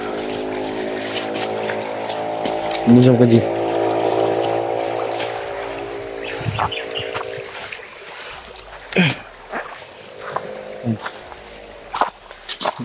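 A motorboat engine hums steadily on the water for the first several seconds, then fades into quieter water sounds with scattered knocks and splashes while someone speaks briefly.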